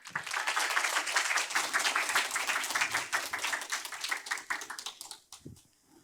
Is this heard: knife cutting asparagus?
no